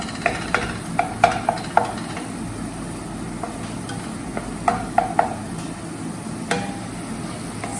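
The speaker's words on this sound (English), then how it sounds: "you have to go on mixing it nicely, stirring it" Tomato being stirred in oil in a cooking pot, irregular scraping and stirring strokes over a soft steady sizzle, close and moderately quiet.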